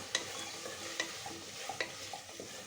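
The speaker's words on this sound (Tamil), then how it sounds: "அது கூடவே 2 பச்சை மிளகாய், கேரட் பீன்ஸ் கட் பண்ணி வச்சது நம்ம சேர்த்துக்கலாம்." Curry leaves, green chillies, carrot and beans sauté in a pan for sambar rice, a steady soft sizzle broken by several faint stirring clinks and scrapes, no voices.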